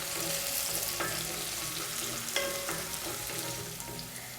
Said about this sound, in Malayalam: ഇത്രയും ചേർത്ത് കൊടുത്തിട്ട് നന്നായിട്ട് നമുക്ക് ഒന്ന് വഴറ്റിയെടുക്കാം.